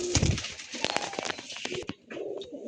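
Andhra fulsira tiplar pigeons, a breeding pair, give brief coos amid sharp clicks and rustling, as if the frightened birds are shifting and flapping close by, before a quieter tail.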